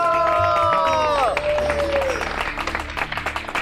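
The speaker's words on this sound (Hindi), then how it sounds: "तालियां।" An audience at a TV show's dance performance breaks into scattered, busy clapping after a sustained tonal sound fades. The applause is fairly loud and close, and crowd voices and babble mix in underneath.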